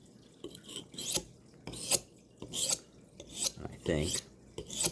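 Knife blade drawn repeatedly along a sharpening surface, rhythmic rasping strokes roughly every half second, close and loud, with a brief spoken phrase partway through.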